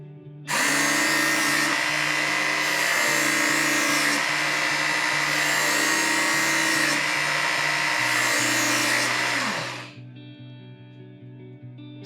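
A blade is drawn repeatedly across a knife sharpener in a steady, loud grinding whir, about four strokes with brief dips between them, then stopping abruptly near the end.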